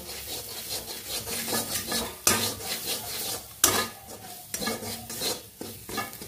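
A spoon scrapes and stirs turmeric into garlic frying in a pan, rhythmic rubbing strokes over a light sizzle, broken by two sharp metallic clanks against the pan.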